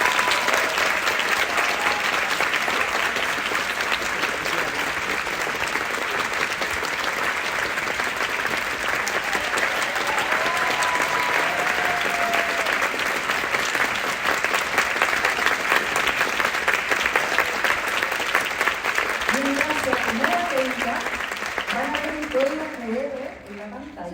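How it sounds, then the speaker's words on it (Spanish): Audience applause after Leila Guerriero's lecture, a long steady roar of clapping from a large crowd that holds for about twenty seconds before thinning out, with faint voices surfacing near the end. "Un fuerte aplauso para Leila Guerriero."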